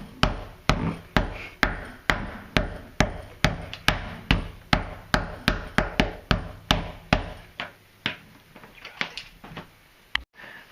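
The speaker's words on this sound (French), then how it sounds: "on peut augmenter l'efficacité de l'adhérence avec un petit marteau. On vient marteler les éléments." Small hammer tapping glued leather pieces at a cobbler's bench, a steady run of about twenty sharp, close knocks in even rhythm, then softer scattered taps and one last hit, with no talk.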